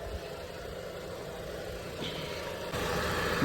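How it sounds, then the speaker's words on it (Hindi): A Maruti Suzuki car runs with a faulty alternator, giving a steady mechanical drone and whine from the engine bay at idle, moderately close, rising slightly in level near the end, with no talking. "उन्होंने बताया अल्टरनेटर में से आवाज़ आ रही है"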